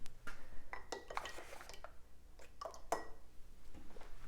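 A spoon is dipped into a jar of coconut oil while making cacao protein bars, producing a few soft clinks and scrapes of metal against glass, close and fairly quiet.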